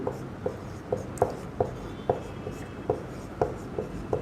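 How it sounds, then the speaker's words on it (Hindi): Chalk or marker taps and scrapes across a classroom board in a steady rhythm of short, crisp strokes, close and clear with no talking. "पहले लिख देता हूं।"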